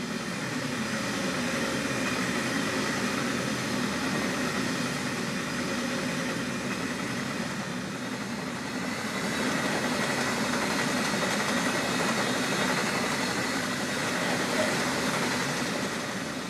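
A Peninsula Corridor train runs in the railway simulator game Train Sim World, a steady rumbling hum of engine and rolling wheels that holds evenly for over fifteen seconds with a slight swell midway.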